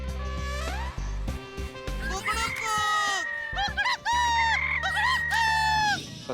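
Voices mimic a rooster's crow in repeated wavering calls, a few separate imitations rising and falling one after another, close and loud, with brief talking between them.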